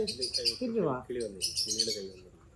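Birds chirp and twitter close by in short bursts, with a low murmur of voices underneath.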